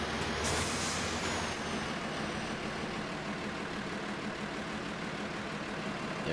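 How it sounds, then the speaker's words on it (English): A Ford tractor engine in Farming Simulator 2013 runs with a loud, steady, broadband rumble and a brief hiss near the start, continuous throughout with no voices. "this Ford tractor is really powerful"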